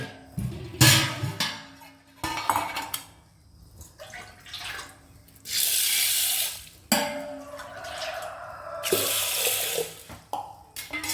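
Tap water runs into a vessel in bursts while rice and horse gram are put in to soak, with clattering and splashing between the pours, fairly close.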